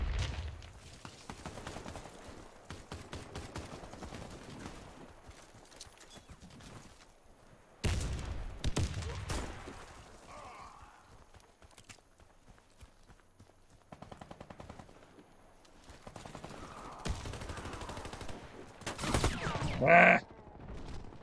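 Gunfire from a shooter video game: scattered bursts and rattling shots over a low background, quieter stretches broken by louder volleys around the middle and a strong burst near the end.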